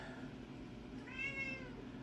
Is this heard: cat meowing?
yes